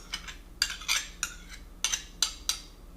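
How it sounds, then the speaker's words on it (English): A small metal spoon clinks against a glass jar while scooping mayonnaise for an egg mixture for Polish fried breaded pork, several sharp light taps in an irregular series, close and alone. "now I need a little spoon so I can scoop my mayonnaise."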